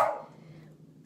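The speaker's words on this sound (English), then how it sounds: "I have my door closed, but my dogs bark." A single dog bark rings out at the start, muffled as if behind a closed door, then fades into a quiet room hum.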